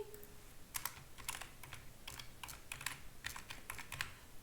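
Answer options being typed on a computer keyboard for an online board, a quick run of soft, close key clicks in irregular bursts over a quiet room, no speech.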